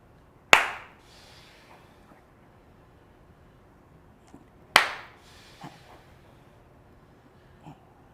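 Two sharp, loud hand claps spaced about four seconds apart during explosive clap push-ups in a gym, each a single crisp smack, with faint softer thuds between and no talk.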